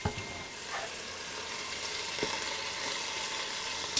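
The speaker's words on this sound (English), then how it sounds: "we're going to sizzle now. We're going to sizzle, sizzle, sizzle." Steady loud sizzling and crackling of pot roast meat searing in hot oil in an Instant Pot, continuous throughout with occasional faint pops, no voices.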